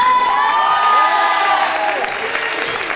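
Pageant audience applauds and cheers for the first contestant as she is welcomed, a dense, steady wash of clapping with a few whoops and shouts, loud and continuous over the full stretch.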